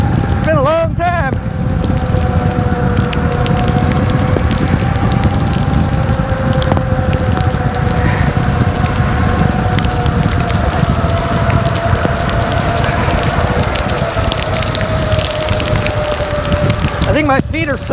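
Steady rain patters and hisses throughout an eBike ride, a dense broadband wash under a low whine, with brief tonal chirps near the start and end.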